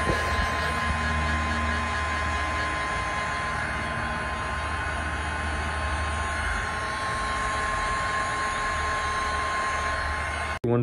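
A heat gun blows steadily on a rubber hose being warmed for bending, a continuous loud whooshing hum that runs unbroken for about ten seconds with no talking over it.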